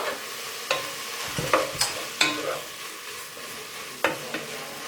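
Mushrooms and chicken frying in a pan with a soft steady sizzle, punctuated by several sharp scrapes and clacks of a utensil stirring.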